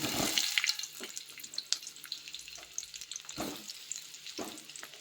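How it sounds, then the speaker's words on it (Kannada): Onions dropped into hot oil in a pan burst into a loud sizzle at first, then settle into continuous frying crackle with a few stirring scrapes, close by. "ಇವಾಗ ಈರುಳ್ಳಿ ಹಾಕ್ತಾ ಇದ್ದೀನಿ"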